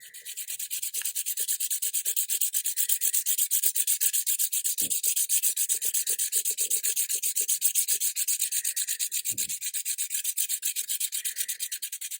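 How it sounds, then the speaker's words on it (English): A gray pastel stick rubs steadily over a textured rubbing plate, making a close, continuous scratchy rasp with a fast back-and-forth rhythm. Two faint taps break in along the way. "where the raised portion of the rubbing plate is, you're going to get darker marks"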